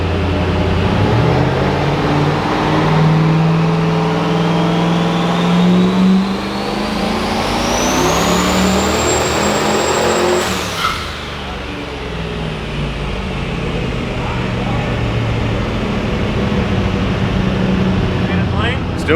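A turbocharged iron-block 5.3 LS engine revs hard on a dyno pull, loud and close, its pitch climbing steadily then cutting off before settling back to a lower drone.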